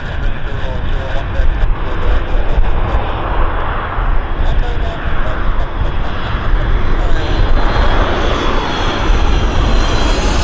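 A fixed-wing airliner on a night flight from Hawaii arrives at Vancouver airport, producing a loud, steady engine roar and rumble that persists throughout with broad noise and no break.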